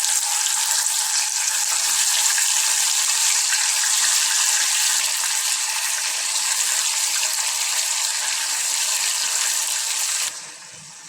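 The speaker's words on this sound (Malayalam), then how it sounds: "ഓയിലാണ് കേട്ടോ ഒഴിച്ചു കൊടുക്കുന്നത് ഇതിൻ്റെ അകത്തേക്ക് നമ്മൾ എടുത്ത ചിക്കൻ ചിക്കൻ ഇട്ടെടുക്കാം" Chicken pieces frying in oil in a pan for butter chicken, a loud, steady, dense sizzle throughout that drops suddenly in level near the end, with no talking.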